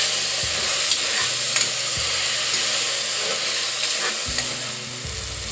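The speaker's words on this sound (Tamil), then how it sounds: "தக்காளி நல்லா குழையிற அளவுக்கு நல்லா வதக்கிக்கோங்க." Tomatoes sauté in an oil-filled pan with curry leaves for a raw papaya gravy, a steady close sizzle and hiss with occasional stirring scrapes and clinks of a spoon against the pan.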